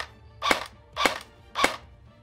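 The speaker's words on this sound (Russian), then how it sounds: "Чтобы произвести одиночный выстрел, нужно просто неглубоко нажать на спуск." A PTS Magpul PDR-C airsoft gun fires three sharp, snappy single shots, evenly spaced about half a second apart, each loud and close with quiet pauses between.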